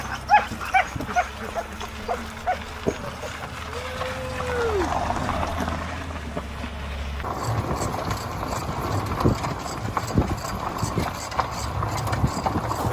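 A team of sled dogs hauls a sled through a short dog race in Talkeetna, Alaska, with scattered yips and steady pattering over a constant rushing rumble.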